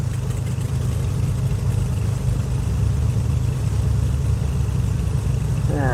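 Right engine of a Carenado Baron twin piston plane in the Prepar3D flight simulator, a steady low engine drone holding at an even level, rumbling and continuous with no voices.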